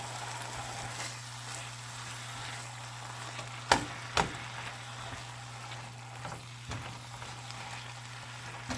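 Beef and brown sugar sizzling in a pan while being deglazed, a steady moderate crackle with a couple of sharp utensil clicks and a low constant hum from the stove, with no talk.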